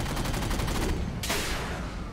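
The Hornet's machine guns in Halo rattle off a rapid, loud burst of automatic fire, pause for a moment, then open up again in another sustained stream.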